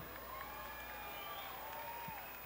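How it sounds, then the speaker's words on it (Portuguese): Steady applause from a large rodeo crowd in Murutinga do Sul, continuous and moderately loud throughout, with a faint whistle-like tone drifting above it. "cadê a salva de palmas ao salva-vidas?"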